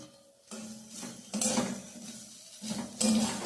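A metal pan of fried vegetables for veg dal is lifted off the stove, producing a few close clanks and scraping knocks of cookware against the burner, with no speech.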